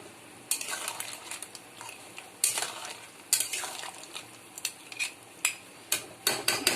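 A spoon stirs garam masala into crab curry in a pan, giving soft scraping and clinking strokes that come faster near the end, close but fairly quiet over a low sizzle, with no talking.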